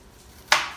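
A knife comes down once on raw onion, a single crisp, close chop that snaps out of near silence and fades quickly.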